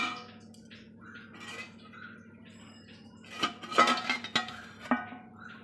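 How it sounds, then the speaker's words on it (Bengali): A lid comes off a pot of steamed fish and potatoes after the gas is turned off. A low hum gives way to a close burst of metallic clanks and rattles, then a few lighter knocks. "ওপরের ঢাকাটা এবার খুলে নিই"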